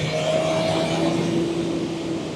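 A BMW S1000RR liter-class sport motorcycle cruises in fourth gear, its engine a steady, loud, smooth drone heard close up from the rider's position with no talking.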